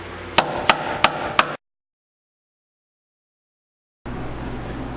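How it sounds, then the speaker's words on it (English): Four sharp metal hammer strikes drive a bolt into a Jeep Compass control arm, evenly spaced and close, over a low hum, then a long silence before the background hum returns. "Now this bolt should just hammer up."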